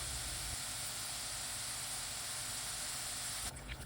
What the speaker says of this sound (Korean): 이번엔 감자 튀길 차례. 감자는 7분 튀겨줬어요.